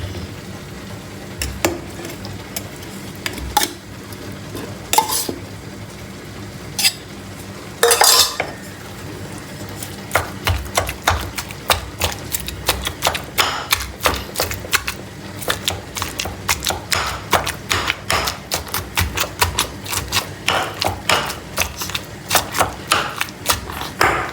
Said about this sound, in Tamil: சரி, நாங்கள் வாழைக்காய் அடித்து போட்டோம்.